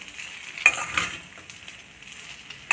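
Grated coconut stirred into upma in a pan with the heat switched off, heard as soft scrapes and a few sharp utensil clicks against the metal over a quiet background.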